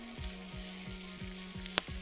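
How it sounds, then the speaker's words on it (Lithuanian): Potatoes fry in oil in a pan over a campfire in a forest, a soft, steady sizzle with regular faint ticks and one sharp pop near the end. "Jau va kepa."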